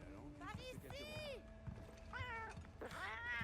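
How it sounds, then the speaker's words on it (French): The cat companion in the Monster Hunter Wilds video game meows in a series of short, rising and falling calls, moderately clear over quiet game ambience. "j'ai pas mis la voix pour le chat. Le chat parlera en chat"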